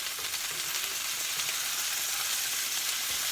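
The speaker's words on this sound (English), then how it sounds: "So I'm simply going to sear these for about a minute or 2 on each side" Steak fillets sear in a hot pan, giving a steady, close hiss and sizzle that holds without a break.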